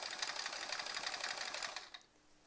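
Sewing machine stitching a quilt-as-you-go sampler block, a quick steady rattling whir up close that stops abruptly near the end, leaving quiet room tone.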